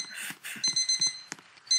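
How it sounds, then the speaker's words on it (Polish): A Roblox Bloxburg alarm clock rings in quick repeated electronic beeping bursts, clear and alone with no talk over it. "Poczekaj, włączę tylko budzik."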